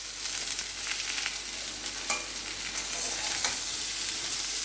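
Food fries in a pan with a bright, continuous sizzle, broken by occasional scraping strokes as it is stirred in a home kitchen.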